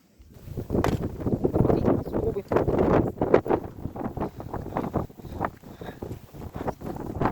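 Gusty wind blows outdoors in snowy Siberian April weather, buffeting the microphone in loud irregular surges and rushes that rise and fall without pause.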